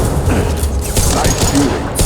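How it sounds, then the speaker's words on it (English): Sci-fi gunfire and weapon blasts from a Mass Effect 2 battle, a dense run of shots with booms and mechanical clatter across a short stretch, with game voices underneath. "nice shooting"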